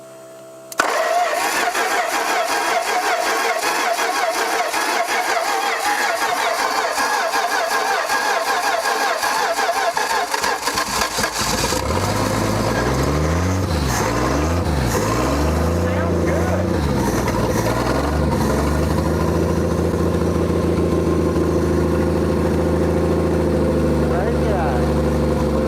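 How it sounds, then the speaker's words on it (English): A 1968 Plymouth Valiant inline six-cylinder, rescued after sitting forty years, cranks and catches, then runs loud and close with uneven revving that rises and falls before settling into a rough idle. "It sounds pretty good for a little inline 6-cylinder."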